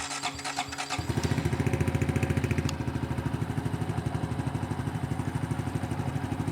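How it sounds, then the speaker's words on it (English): A Honda Dax 125 motorcycle engine cranks and catches after a second, then settles into a steady, loud, pulsing idle up close. "Let me fire up the engine."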